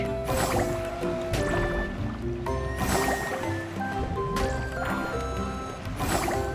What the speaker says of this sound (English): I think the sound is still messed up because I hear that water noise.